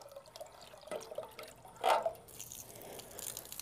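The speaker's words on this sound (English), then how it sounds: "So we want the water to run down." Water from a garden hose trickles and drips at the base of a hydrangea tree, soft and close, with scattered splashes and one louder gurgling surge midway.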